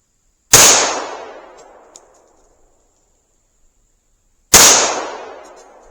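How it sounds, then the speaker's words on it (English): Two sharp, loud rifle gunshots, a few seconds apart, are fired at a tree from about four yards outdoors, each with a quickly fading echo and silence between. "And 2 shots. I'm only about 4 yards away from the tree."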